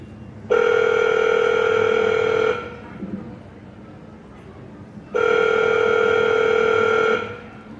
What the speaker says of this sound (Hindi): वह फोन नहीं उठा रहा है, फोन नहीं लग रहा है।